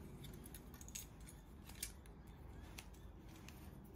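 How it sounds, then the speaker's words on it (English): Side cutters snip a part for a mousetrap car. A couple of faint, sharp clicks stand out over quiet background hiss. "Just grab our side cutters. And that's done."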